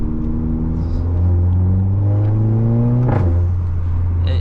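Volkswagen Polo GTI 6C on a drive, a loud steady engine drone and exhaust note with a sharp burst near the end that fits an exhaust pop or crackle, heard close from inside the car.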